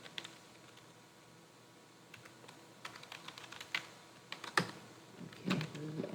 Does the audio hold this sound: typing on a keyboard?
yes